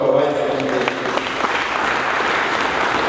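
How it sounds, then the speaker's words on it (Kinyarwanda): A church audience in Burundi applauds with steady, dense clapping that carries on evenly throughout, loud and fairly close, with some voices mixed in at the start. "tubakorera amashyi kwa wese"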